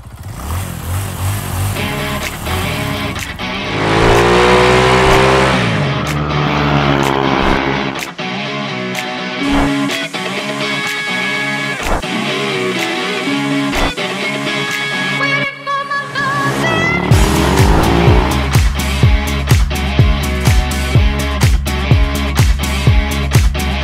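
Rusi RFI 175 motorcycle being ridden, its mid-pitched engine revving up and settling through a few shifts, ending in a steady pulsing idle-like throb, close and fairly loud with no talk.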